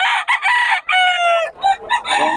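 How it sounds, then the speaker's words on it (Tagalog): Rooster sounds up close at a market, a short bright call and clucks in quick bursts, though not a clear full cock-a-doodle-doo crow. "Akala nyo lang mahal yung manok ni Boss Perry"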